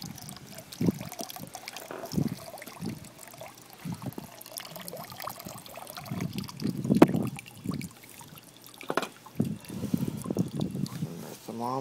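Hot water pours and trickles out of a cheap homemade solar pool heater, a steady close splashing flow with voices talking over it at times.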